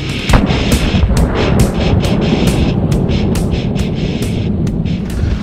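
Rapid series of loud, close gunshots from a Diamondback DB10P AR10 pistol during an accuracy test with several ammunition loads, sharp cracks fired in quick succession with booming outdoor echo.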